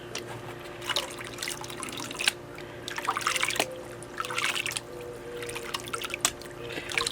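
Water sloshes and trickles in a gold pan during panning with gravel and quartz pebbles, in gentle swirling bursts that rise and fall over a steady low background hum.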